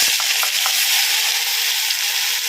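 Ground spice paste hitting hot oil in a pan for potato poriyal, a loud, steady close sizzle and crackle with a few faint stirring clicks at the start.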